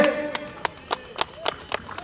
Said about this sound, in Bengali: হাততালি দিয়ে